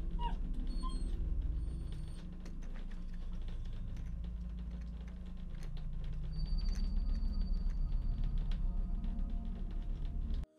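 A dog whimpers in a dark bedroom where its owners lie asleep in bed, soft whining and yips over a steady low hum with faint clicks throughout, no talk.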